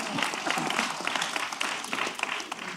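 An audience at a Black History celebration with civil rights legends claps in a steady round of applause, fairly close and dense, with no one speaking over it.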